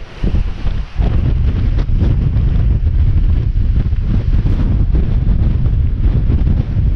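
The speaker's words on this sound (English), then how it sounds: "Look how powerful the wind is through here." Strong, gusty wind blows through grass at a wet, windy solo wild camp in bad weather. It makes a loud, continuous roar and buffeting rumble right against the microphone, with no voices.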